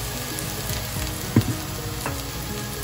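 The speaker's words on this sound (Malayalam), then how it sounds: "നമ്മുടെ സവാളയും തക്കാളിയും ഓൾമോസ്റ്റ് മൂത്ത് വന്നു." Chopped onion and tomato frying in a pan, a steady soft sizzle with faint stirring scrapes and a brief louder clatter near the middle.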